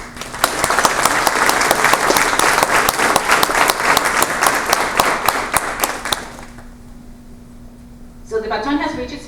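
An audience claps loudly and steadily for several seconds at a correctional class graduation, then the applause fades out and a voice begins speaking.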